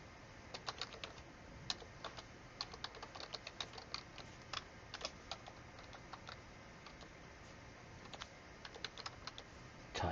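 Someone types on a computer keyboard in a quiet room, producing soft irregular clicks in bursts with short pauses and a slightly louder keystroke at the end.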